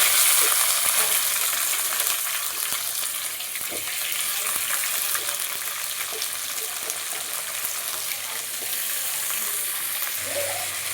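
Tomato and capsicum frying and sizzling in a pan for rice bath, a dense steady hiss with occasional stirring scrapes, close and continuous with no talking.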